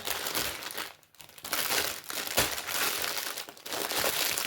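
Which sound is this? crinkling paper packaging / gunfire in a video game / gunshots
crinkling paper packaging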